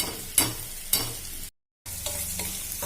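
Ginger and garlic frying in a pan for a tomato paneer curry, a soft sizzle punctuated by two scraping stirs, then a brief silent gap before the frying resumes.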